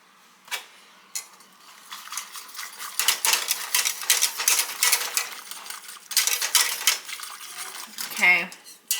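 Gelatin is stirred into boiling water with a utensil, giving rapid light clinks and scraping against the pot for several seconds, fairly close and moderately loud, with no talking.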